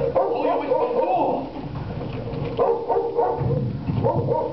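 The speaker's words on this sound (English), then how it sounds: "Gun dogs. We must be starting to shoot up again." Gun dogs on a marsh shoot, barking repeatedly at close range in loud, uneven bursts over a busy background.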